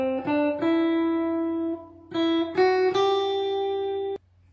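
Notes picked one at a time on the first string of a guitar, each clean and ringing, in a short phrase of about seven plucks that sustain between attacks and end abruptly.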